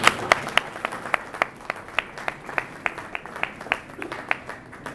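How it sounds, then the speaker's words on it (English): Scattered clapping from an audience at an official address by RwandAir officials, irregular claps spread across a few seconds at moderate volume, thin rather than a full ovation, with no voices over it. "Another round of applause."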